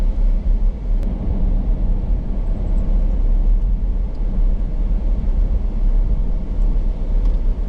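A car travels along a road, heard from inside as a loud, steady low rumble and road roar that never lets up, with no talking.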